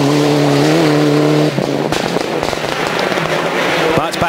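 A Group N spec Mitsubishi Lancer rally car runs a stage at Rally Japan, its engine holding a steady loud drone that cuts off after a second and a half, giving way to rough, crackling road and gravel noise with sharp pops.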